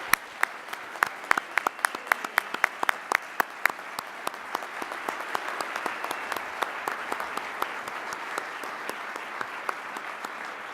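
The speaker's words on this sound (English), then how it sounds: "Let's give him a round of applause." Audience at a CFO of the Year awards ceremony in Chicago applauding an honoree, a dense patter of many claps with sharp individual claps standing out near the mic, steady for about ten seconds.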